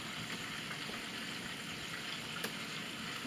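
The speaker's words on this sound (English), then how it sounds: "Like that nice sizzle. Gotta get that sizzle." Catfish pieces fry in hot oil with a quiet, continuous crackling sizzle, faint and steady with one brief pop near the end.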